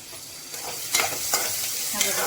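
Onion frying in a pan for vegetable biryani, with a steady close sizzle and a few sharp clinks of a spoon stirring against the pan.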